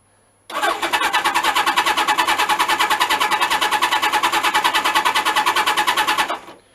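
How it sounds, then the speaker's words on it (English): A Suzuki GS1000 motorcycle engine is cranked over on the starter without firing. A loud, steady, rapid chugging rhythm runs for about six seconds, then cuts off, with no voices. "And then I started the bike. Well, I didn't start it, I turned it over."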